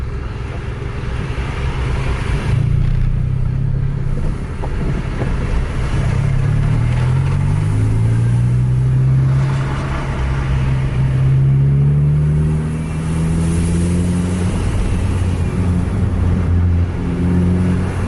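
A Volvo truck drives along a road, its heavy diesel engine droning steadily throughout with rising and falling gear-change pitch sweeps, loud and close with no talk.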